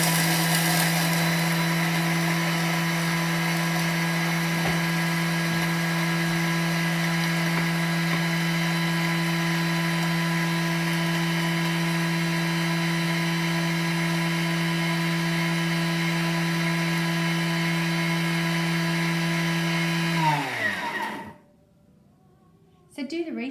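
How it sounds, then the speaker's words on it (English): A Thermomix pulverizes sun-dried eggs with a loud, steady high-speed whir full of motor harmonics for about twenty seconds, then winds down and stops. "with our trusty Thermomix, we can pulverize this"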